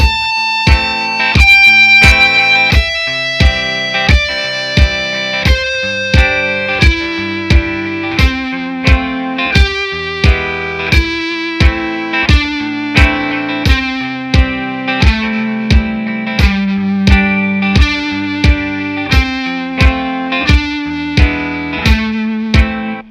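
Distorted electric guitar lead played in steady half notes, each sustained note held for two counts and changing pitch, with a processed, effects-laden tone, clear and alone with no talking.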